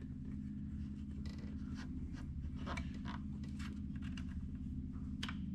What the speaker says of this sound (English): And then we'll put this tensioner on there.